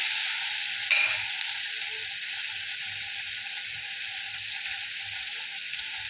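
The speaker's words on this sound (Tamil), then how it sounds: "நல்லா வதக்கி விட்டு" Garlic sautéing in a pan alongside softened tomato, a steady broadband sizzle running close and continuous throughout, with a brief clatter of stirring near the start.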